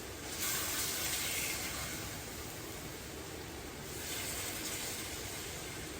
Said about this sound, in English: You can hear a nice sizzle when you put these pork chops in.